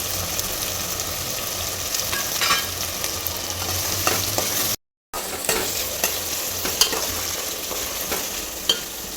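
Curry leaves and onion frying in oil for Ballari-style mandaloggane, stirred in the pan: a steady close sizzle with scraping stir strokes, no talking, and a brief dropout midway.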